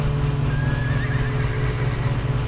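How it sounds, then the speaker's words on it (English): Horse neighing as ambient sound in the Lawn Mowing Simulator video game, a brief whinny rising over a steady low engine drone, moderately loud, with no talk. "the ambient noises I'm hearing now, like horses"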